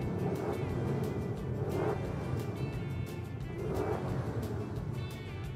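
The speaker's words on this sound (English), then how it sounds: "I'm gonna rev up the engine a little bit so you can hear that." A 2004 Toyota Sequoia Limited with 145,377 miles idles, then its engine swells twice in short revs before settling back, heard as a steady, moderately quiet motor hum with no talking.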